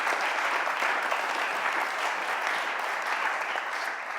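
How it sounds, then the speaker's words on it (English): Audience applause at the close of a session on housing and community wealth building, a dense, steady wash of many hands clapping that carries evenly for the full length without speech. "can we give you a round of applause for..."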